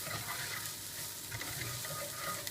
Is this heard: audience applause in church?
no